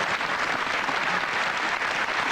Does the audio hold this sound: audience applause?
yes